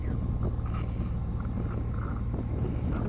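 A boat heads out of Whitby harbour, its engine a steady low rumble under constant wind buffeting the microphone, with water wash around the hull.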